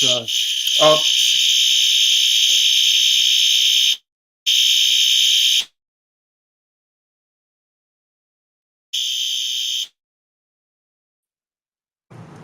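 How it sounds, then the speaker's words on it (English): A loud, shrill electronic fire alarm blares in long continuous tones, breaks off, then sounds again in shorter bursts before falling silent. "while the fire alarm goes off"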